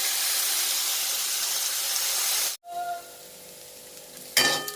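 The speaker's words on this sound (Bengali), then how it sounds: "সবজিগুলো দিয়ে দিলাম, সবজিগুলোকে ভেজে নেব।" Vegetables fry in a pan for homemade fried rice over lowered flame, a steady hissing sizzle that cuts out abruptly midway, then returns in a sharp loud burst near the end.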